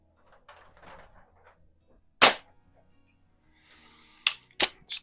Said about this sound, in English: put the pellet in and close the bail and then close the breech